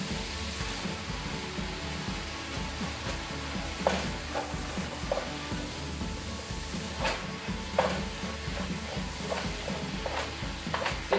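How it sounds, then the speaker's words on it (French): Ground meat frying in a pan for bolognese sauce, a soft continuous sizzle with scattered scraping stirs and light clinks of a utensil against the pan. "Fait que là, je suis prête à mettre ma viande hachée."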